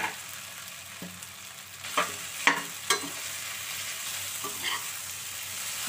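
Soaked sabudana with cumin, green chilli and turmeric being stirred in a pan, giving a low steady sizzle with a few soft scraping clicks of the spoon, close and alone without voices.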